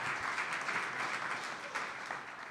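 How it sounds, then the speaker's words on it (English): Crowd applause at a live event saluting a state championship team: a steady, dense wash of clapping that stays fairly faint and even throughout, with no voices. "give the Tritons a big round of applause for winning the state title"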